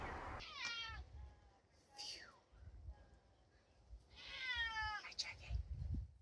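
An 18-year-old cat meows twice, each call a clear, drawn-out wavering cry, near and fairly loud, with a short chirp between them and some low background rumble.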